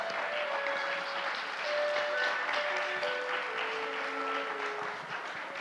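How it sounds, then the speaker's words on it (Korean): An audience claps steadily for a professor introduced at a lecture during the 2021 World Gaecheon Culture Festival. The dense applause holds for the whole stretch, with faint tonal notes running beneath it. "네, 그러면 따뜻한 박수 보내주십시오."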